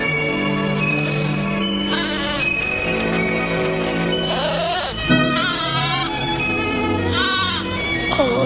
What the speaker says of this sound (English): Oh, that poor little goat.